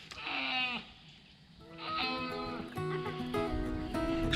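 Hoarse goat bleating from separation anxiety: several strained, wavering bleats in succession, close and fairly loud, with brief pauses between calls.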